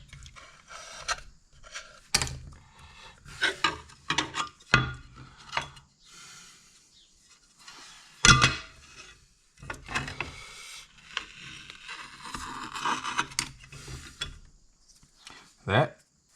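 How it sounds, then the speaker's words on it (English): Gasket material being scraped off a part from a 1963 Ford Falcon, heard as repeated short rasping strokes up close, with a voice speaking in between. "Just take and scrape all this crud off of here."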